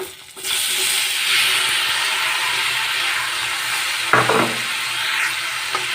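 Chopped tomatoes frying for Odia tomato khata, a steady broadband sizzle and hiss filling the pan, with a brief clatter of stirring near the end.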